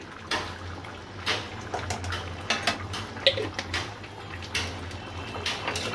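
Food being stirred in a cooking pot, scattered metallic clinks and scrapes of a spoon against the pot, irregular and close, with a faint steady hum in the background.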